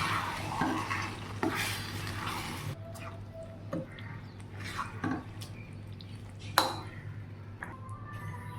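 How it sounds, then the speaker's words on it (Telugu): Gongura leaves being stirred into a meal maker (soy chunk) curry in a pan, giving soft scraping stir strokes and a few sharp utensil clinks against the pan over a steady low hum. "ఫ్రై అయిన తర్వాత మనం ముందుగానే ఉడికించి పెట్టుకున్న గోంగూరని దాంట్లో వేసుకొని కలుపుకోవాలి."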